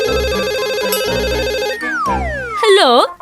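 Telephone ringing with a loud, rapidly warbling electronic trill, followed by sliding, swooping tones.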